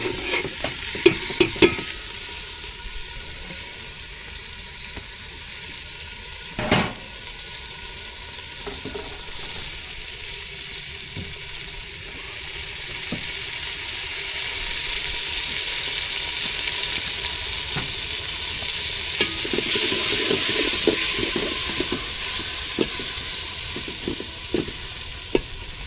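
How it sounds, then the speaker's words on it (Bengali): Hilsa fish fry in shallow oil on a fishermen's river boat on a cloudy, rainy day, giving a steady, close sizzle that swells louder near the end, with a few sharp knocks and no talk. "অল্প পরিমাণে ভাজতে হবে।"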